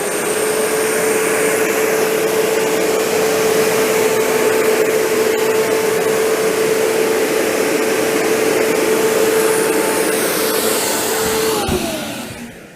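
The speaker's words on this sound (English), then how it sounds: "with a machine like this, even in a small space like this, we've got snow falling everywhere" A snow machine blows artificial snow in a small indoor space, giving a loud, steady, unbroken rush of fan and airflow noise with a faint whine that runs for about twelve seconds, then cuts off at the end.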